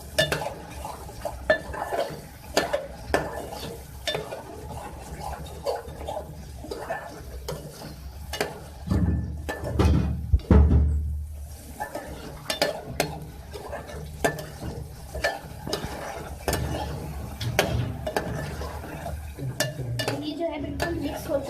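Masala with yogurt and tomatoes sautéed and stirred in a pan for a beef dish, with steady scraping and clinking of a spoon against the pan over a soft sizzle and a brief louder rustle midway.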